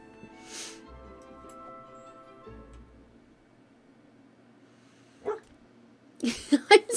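Dog barks in a few sharp bursts near the end, preceded by a brief yip, over faint background tones and murmuring voice.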